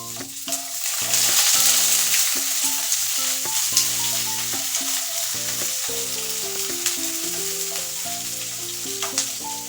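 Chopped onion hits hot oil in a pan for a jackfruit and prawn curry, giving a loud, steady sizzle and frying hiss throughout, with stirring scrapes and tonal background music playing over it.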